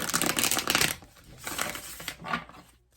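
Tarot cards shuffled by hand in three quick bursts, a dense crisp riffle followed by two shorter flurries of papery flicking, close and fairly loud with no talking.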